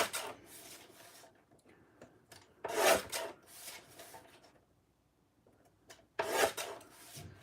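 Cardstock for a Christmas card is trimmed in several separate bursts of rough scraping and rasping, with quieter pauses between the strokes. The sound is close and there is no talk.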